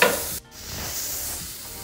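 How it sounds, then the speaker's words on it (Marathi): Ginger and garlic sizzle hotly in a pan, and the frying briefly dips as tomato is added before the sizzle settles back in, close and alone. "आलं लसूणही आपण थोडंसं फ्राय करून घेऊया"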